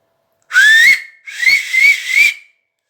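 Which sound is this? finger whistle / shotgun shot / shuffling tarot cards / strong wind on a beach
finger whistle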